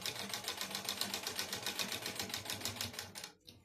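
A sewing machine runs fast and steadily while stitching a katori blouse with short double stitches, its close, rapid needle rattle continuing before stopping abruptly near the end.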